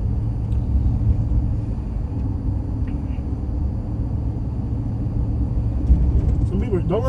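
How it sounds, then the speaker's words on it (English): A huge steel pickup truck rolls along the streets of Mobile, Alabama, its engine and road rumble a steady low drone heard from inside the cab, with people chatting over it. "We were in a huge pickup truck."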